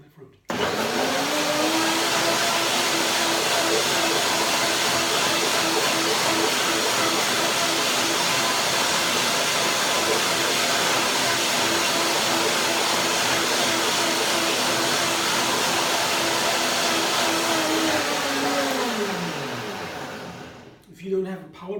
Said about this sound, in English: I will blend it a second time